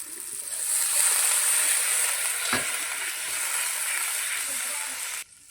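Water hits hot frying green jackfruit kofta curry gravy in oil, setting off a loud, steady hiss-and-sizzle that holds for about five seconds before cutting off abruptly.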